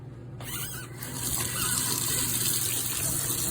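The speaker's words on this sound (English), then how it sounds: "So it says to rinse both sides of the filter for 60 seconds with warm water" Warm water rinsing through the 23-stage filter of a SparkPod shower head, a steady broadband gush with a hiss that swells and holds close and continuous, with a squeaky, gurgling edge at the start.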